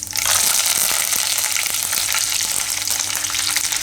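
Cumin seeds, peanuts and curry leaves hit hot oil in a pan, giving a loud, close, continuous sizzle with scattered crackles and pops.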